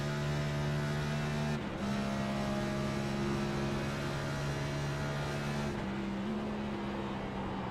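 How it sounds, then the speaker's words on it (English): A race car engine in a racing video game drones steadily, then its pitch drops sharply as it downshifts twice, the tone settling lower each time with no talk. "Watch how smooth his downshift is."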